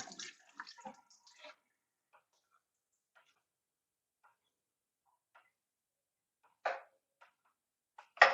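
Water sloshes and rinses through the tubes of an Air Still distiller in short, faint bursts. A brief splashy rush at the start gives way to near silence with tiny drips, then two quick sloshing gushes near the end.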